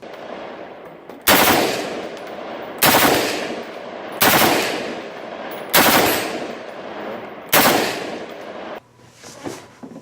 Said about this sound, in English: Burst is basically shoots 3 bullets.